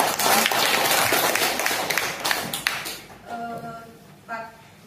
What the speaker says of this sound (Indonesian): Oke, tepuk tangan saya lagi untuk kalian.